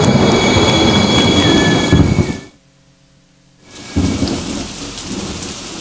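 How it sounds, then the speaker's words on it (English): Rain pours heavily at daybreak with rolling thunder, a dense loud roar that cuts out into near silence for about a second, then returns. "When the night fades and day breaks, the rains arrive."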